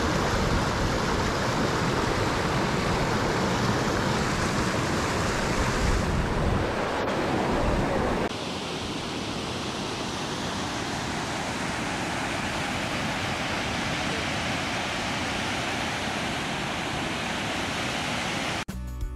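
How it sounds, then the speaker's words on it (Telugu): Duduma waterfall in Odisha roars as a dense, continuous broadband rush, loud and unbroken throughout, with a brief dip in the middle. "మీకు వాటర్ ఫాల్స్ పడుతుంటే యూనో సీ దట్ కలర్,"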